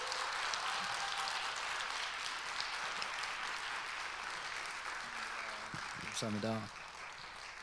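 A church congregation at a winter youth and young-adult retreat applauds steadily throughout, welcoming a pastor to the stage, with a single voice speaking briefly over the clapping near the end.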